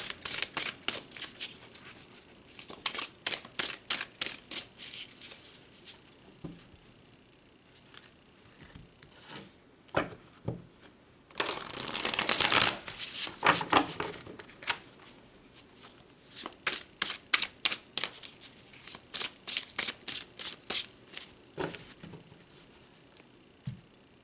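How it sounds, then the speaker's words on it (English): Tarot cards are shuffled by hand in bursts of quick riffling flicks, close and crisp, with a longer dense shuffle in the middle and short pauses between runs. "Let's pull some more cards"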